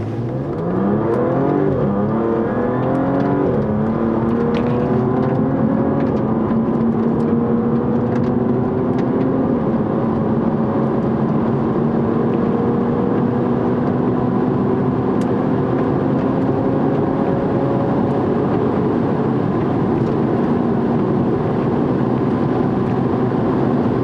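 A Ferrari 458 Italia with a 4.5-litre naturally aspirated V8 races at the Snowy Mountains 1000, its loud engine note climbing through rising revs and gear changes, then holding a long sustained howl as it passes close by, with no voices.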